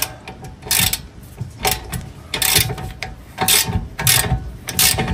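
A ratchet tightening a nut on an SPC adjustable control arm, heard as several loud bursts of rapid ratcheting clicks close up, separated by short pauses, with no talk.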